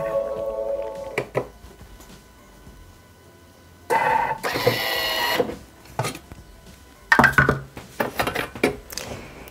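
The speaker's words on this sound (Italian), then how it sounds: "E lo facciamo tritare per 5 secondi a velocità 7." A Bimby Thermomix TM6 chops a garlic clove with pepper and salt at speed 7, giving loud bursts of whirring blade noise of a few seconds each, separated by quieter pauses.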